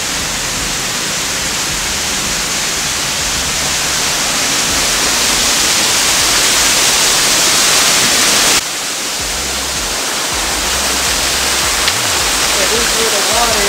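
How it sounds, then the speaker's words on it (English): Water from a natural spring flows in a loud, steady, broadband rush that fills the whole stretch without pause, with a faint voice buried beneath the noise. "flow of water from the natural spring."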